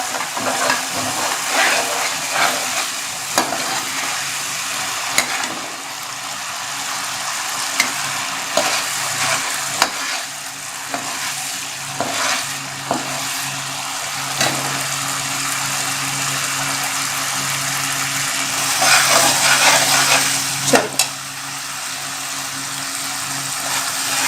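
Masala fries in a pan for kofta curry, a continuous close sizzle with occasional utensil scrapes and knocks, swelling briefly louder near the end, with no voices.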